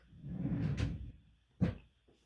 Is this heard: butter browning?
no